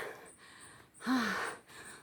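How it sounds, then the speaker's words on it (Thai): Heavy, breathy panting from a hiker climbing a forested mountain trail on Phu Luang, with a few ragged gasps and one louder voiced huff in the middle, close and fairly faint, with no talking. "เริ่มหอบแล้วนะคะ"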